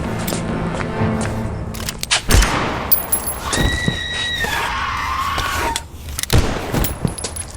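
Gunfire in an audio drama, a few sharp shots fired during a struggle among sudden bursts and cries, close and loud against tense dramatic sound effects.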